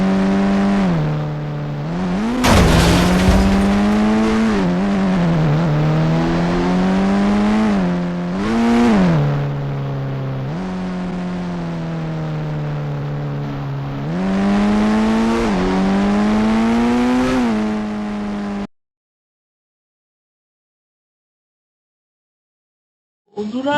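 A Mahindra Thar in the video game Indian Bike Driving 3D revs loudly through a speed test, its engine tone climbing and dropping again and again. The engine then cuts to silence near the end.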